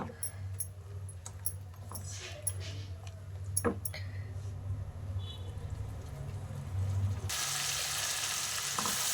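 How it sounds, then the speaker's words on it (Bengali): Cumin and a spice mixture sautéing in a pan give a steady sizzle with scattered stirring scrapes and clinks, and the frying noise swells louder and brighter near the end. "কষিয়ে নেব।"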